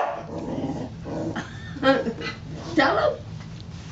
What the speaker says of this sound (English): You quit that barking.